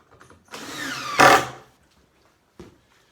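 A power drill drives screws into a mold for a cast cement Adirondack chair: one loud whirring burst of about a second, rising sharply at its end, then a short second buzz after a pause.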